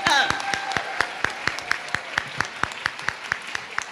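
Audience applause for the winner of a school spelling bee final, with crisp individual claps at a steady pace that fade from a fuller burst to a thinner, sparser rhythm.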